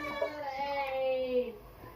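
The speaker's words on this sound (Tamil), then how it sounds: "பாவம், என் குழந்தை வேற அழுகுது." A small baby lets out a thin, wavering wail that rises and trails off, fairly faint and nearby.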